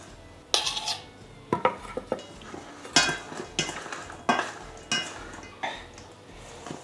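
Spiced biltong meat being stirred and tossed in a bowl to coat it evenly, with a series of sharp metallic clinks and scrapes of a utensil against the dish, close and uneven in rhythm.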